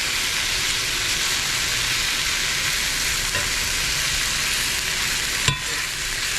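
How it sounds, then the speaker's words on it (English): Almonds and sesame seeds roasting in a frying pan, a continuous close sizzling hiss with faint stirring and a single sharp clack near the end, no speech. "in the same frying pan, we're going to roast half a cup of almonds, followed by half a cup of sesame seeds"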